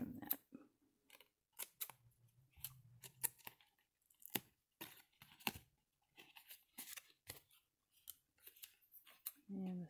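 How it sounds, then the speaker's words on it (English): Paper trimmed with scissors while making an accordion-style journal card booklet, a series of close, crisp snips and rustles with brief pauses, soft and near, under occasional quiet speech. "I'm going to trim that."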